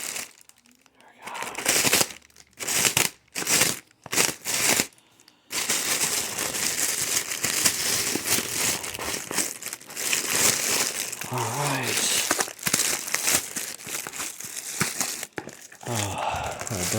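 Cardboard and plastic crinkle and tear in bursts as a package holding an e-bike motor controller is cut open up close, starting with a few short separated rips and then turning into a steady rustling scrape.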